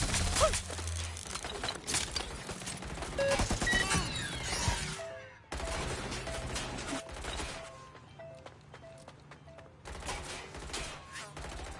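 Rapid bursts of gunfire in the video game Watch Dogs: Legion crackle in dense volleys. A sharp break comes midway, then sparser shots ring out against a quieter background.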